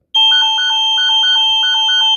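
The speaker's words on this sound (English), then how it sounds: "The alarm will sound in 10 seconds." Nest Guard security alarm sounding after a glass break detection, a loud, close electronic pattern of repeated two-tone chirps in quick groups over a steady high tone, running continuously with no talk.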